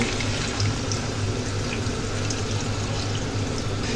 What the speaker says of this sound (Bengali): এরপর হালকা পরিমাণ পানি দিয়ে নেব।